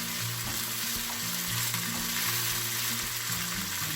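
A spoon stirs curdled, soured milk mixed with homemade curd cheese in a pot, producing a continuous close hiss and soft sizzle over a low tonal hum, with no talking.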